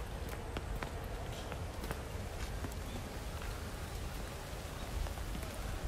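Rain falls steadily in Inokashira Park, a dense, even hiss of drops with scattered sharper patters and occasional footsteps on the wet ground, continuous and fairly close.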